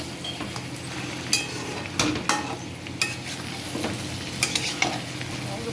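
Garlic goes into mutton curry frying in a pan, a steady close sizzle broken by a handful of sharp metal clinks and scrapes as a spoon stirs, with no talking.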